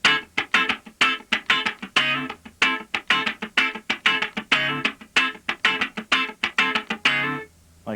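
Funk rhythm guitar pattern in D with a straight feel, tight choppy strums in a steady repeating one-bar rhythm, clean and fairly close, played alone without talking.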